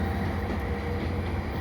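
An EXO ALP45DP locomotive pushes Bombardier Multilevel coaches past Beaconsfield station at night, giving a steady, loud rumble of rolling wheels and engine drone with no talking.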